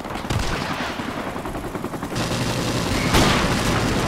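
Video game gunfire rattles in rapid automatic bursts with heavier booming shots mixed in, loud and continuous throughout, with no talking over it.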